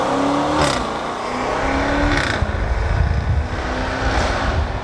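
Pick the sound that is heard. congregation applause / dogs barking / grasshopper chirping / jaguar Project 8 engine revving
jaguar Project 8 engine revving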